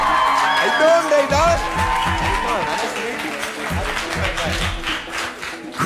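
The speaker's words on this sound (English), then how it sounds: "Crowd's going nuts for you" A studio audience on a music television show claps, cheers and whoops for a singer taking the stage, a loud, dense roar that carries steadily through the whole stretch with shouts and voices mixed in.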